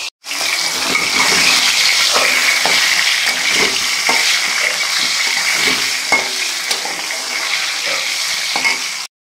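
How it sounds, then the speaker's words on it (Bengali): Fish heads fry in a pan for a Bengali muri ghonto, a loud, steady oily sizzle running throughout, with soft stirring knocks and scrapes scattered over it and no talking. "মুড়ি ঘন্টটা আগে মাছের মাথাটা ভেজে নিই"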